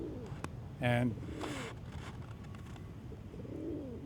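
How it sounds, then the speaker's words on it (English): Pigeons coo softly in the background, a few low rolling calls spread through the clip, while a person speaks briefly close to the microphone. "you can hear the pigeons cooing in the shot"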